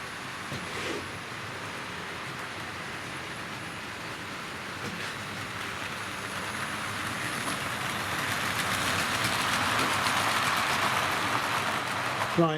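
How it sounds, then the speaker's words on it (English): A Tri-ang model train, the Flying Scotsman locomotive, runs on a home layout, a continuous close rattling rumble of wheels on track that grows steadily louder as it builds up speed. "Flying Scotsman building up speed now."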